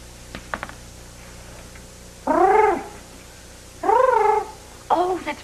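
A person vocally imitates a cat with three drawn-out, wavering purr-like sounds, each about a second long, preceded by a couple of soft clicks.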